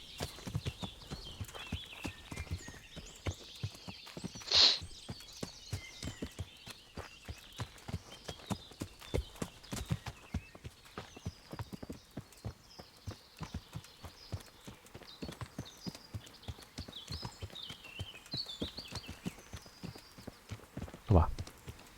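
Steady horse hoofbeats clip-clop at a walking pace nearby in the video game Kingdom Come: Deliverance, a long even rhythm with a couple of louder thuds, and talking mixed in.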